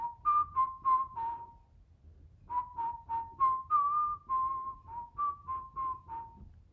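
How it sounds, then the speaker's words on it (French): A person whistles a tune, clear and close, in two melodic runs of short repeated notes separated by a brief pause near the middle. "la chanson que je siffle"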